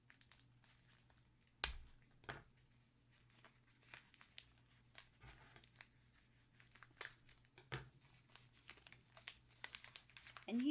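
Paper envelopes of mail are opened by hand, producing quiet, close crinkling and tearing in irregular bursts, with a sharper rip near the start and soft rustling in between.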